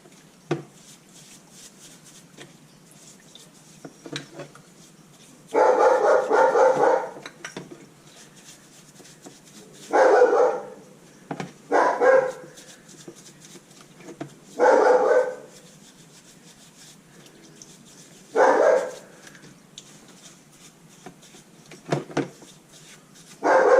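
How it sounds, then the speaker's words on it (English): A guard dog barks in the background in several separate bursts, each a few rapid barks, spaced out over quiet room tone with faint clinking in between. "The main purpose of our guard dog, which you can probably hear in the background"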